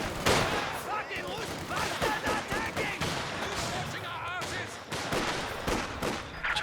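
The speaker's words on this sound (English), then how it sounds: "Still got that mortar blasting away, however." Battle noise from the video game Company of Heroes 2, with mortar fire and small-arms shots cracking and thumping continuously under excited commentary. The combat layers stay dense and loud throughout.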